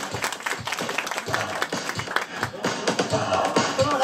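Audience at a Japanese battle event final applauding, a short burst of dense, lively clapping with sharp individual claps, fairly close and steady for about four seconds.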